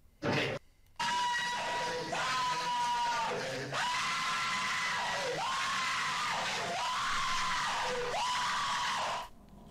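A man screams in several long, loud, strained bursts, each held for about a second with short breaks between, raw and close.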